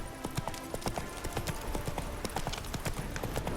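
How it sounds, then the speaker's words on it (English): Hooves of a horse trotting in The Witcher 3 video game, a close, steady, rhythmic clip-clop heard alone with no talk. "Spooking my horse."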